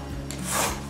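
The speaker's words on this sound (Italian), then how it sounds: "continuiamo ad affettarlo con il pelapatate" Thin asparagus from Cantello shaved into light slices with a vegetable peeler, a soft close rasping scrape that swells midway through a brief stroke, with no talk.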